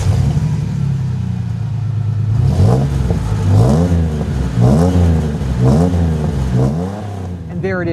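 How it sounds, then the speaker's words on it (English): A 1997 Ford F-150 engine with a DynoMax dual 2.5-inch cat-back exhaust idles with a low rumble, then revs repeatedly in rising and falling surges, loud and close, with no talking. "I love that low throaty rumble that we get from this DynoMax system."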